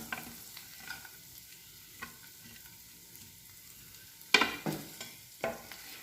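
Charoli nuts and pistachios are stirred and roasted in a pan for sheer khurma, with a faint dry sizzle broken by sharp scraping strokes of the spoon, two of them louder near the end.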